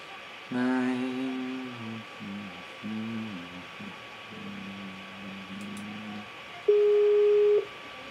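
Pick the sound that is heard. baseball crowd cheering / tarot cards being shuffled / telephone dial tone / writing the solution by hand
telephone dial tone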